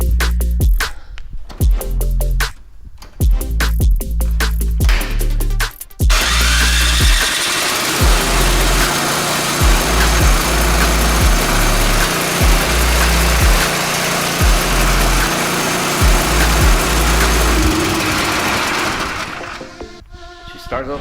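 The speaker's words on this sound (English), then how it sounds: "Plug it in, give a couple pump, push in the key." A Troy-Bilt Squall 21-inch 208cc snow blower engine is plugged in and primed. It sputters and catches after a few rough starts, then runs at a loud steady roar before shutting down near the end.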